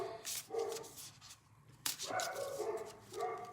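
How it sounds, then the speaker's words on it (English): A few quiet dog barks and yips come in short bursts with pauses between them, fairly faint and a bit distant. "I was talking about the sounds of the dogs"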